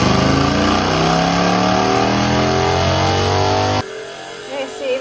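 Motorcycle with a loud aftermarket exhaust pipe revving hard on a dyno, a close, steady roar with rising pitch that cuts off abruptly near the end, leaving quieter background sounds.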